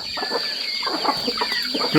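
A chicken clucks close by on a farm plot being planted with corn, a quick run of short clucks and squawks ending in a louder call.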